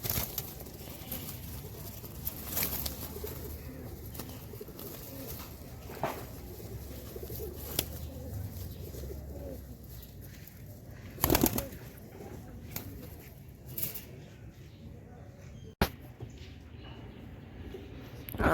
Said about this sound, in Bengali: আর বেশিরভাগই হইতেছে দেশি কবুতর